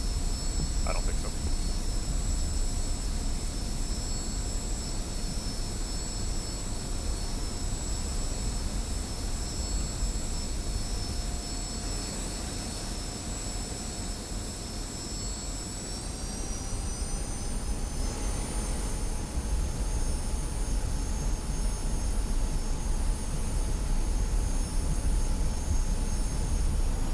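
Steady jet engine whine of an F-86 Sabre in the DCS flight simulator, a sustained drone that rises slightly in pitch partway through as throttle increases, continuous and fairly close.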